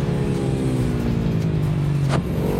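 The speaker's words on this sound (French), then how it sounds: "on sent qu'avec le Racing Kit, la moto elle prend beaucoup plus de tours" Single-cylinder Ducati Hypermotard 698 motorcycle fitted with a Racing Kit exhaust, revving loudly and steadily up close with a rising engine note, then a sharp throttle blip near the end.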